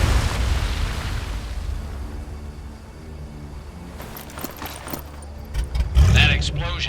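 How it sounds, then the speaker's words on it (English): A video-game explosion in Medal of Honor Above and Beyond, a deep rumbling boom that fades into crackling debris and scattered pops, ending in a sharper burst near the close. "That explosion got the attention of all the German patrols in the area."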